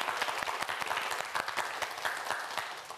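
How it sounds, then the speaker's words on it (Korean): A studio audience at a televised student quiz show breaks into dense, steady applause, many hands clapping at once for the full stretch with no voices over it. "두 학생 모두에게 큰 박수 부탁드립니다"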